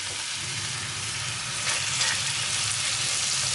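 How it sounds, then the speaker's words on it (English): Marinated prawns frying in a hot pan for a pepper prawn rice bowl give a steady, close sizzle with light crackle that swells slightly partway through, and no voice is heard. "So just cook your prawns or shrimp on both sides for about 2 to 3 minutes."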